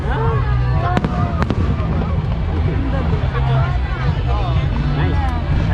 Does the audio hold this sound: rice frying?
no